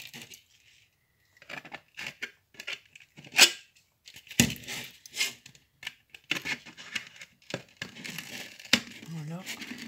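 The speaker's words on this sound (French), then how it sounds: "je prends mes ciseaux" Snipping and cutting sounds with scissors, several sharp crisp cuts and rustles of material, close up, with brief pauses between, while crafting a hanging Christmas ornament.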